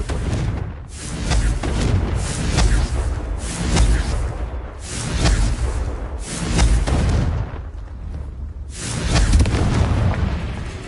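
Confringo fire spell explosions in Hogwarts Legacy, a series of loud booming blasts repeating every couple of seconds amid rumbling game noise.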